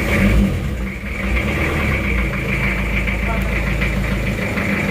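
Rebuilt Toyota Kijang diesel engine idling close by with a steady low rumble and some knock, while someone talks over it.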